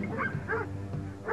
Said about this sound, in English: Then the dogs are let loose to follow the scent of the animal.